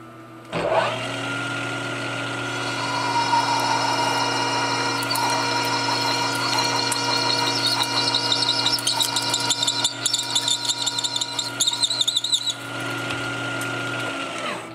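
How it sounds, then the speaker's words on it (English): A drill bores a hole to size in a prototype part during small-batch production, its motor humming steadily while the bit chatters and grinds through the metal. Near the end the motor spins down and stops. "Got her drilled out to size"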